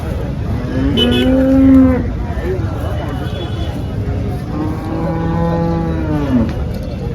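Two long, loud cow moos close by at the Chalisgaon cow market, separated by a pause, over a murmur of voices and outdoor bustle.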